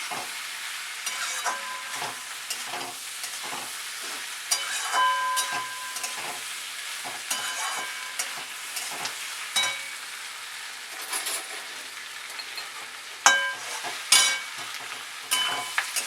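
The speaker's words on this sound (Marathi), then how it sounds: "आता ह्याच्यामध्ये हे चांगलं मिक्स करून घ्यायचं." Paneer chilli masala sizzles steadily in a hot pan while a spoon scrapes and stirs it in repeated strokes, the frying hiss continuous throughout.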